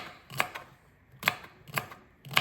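Knife chopping celery stalks on a cutting board, four crisp, separate cuts at uneven spacing, close and clear against a quiet kitchen.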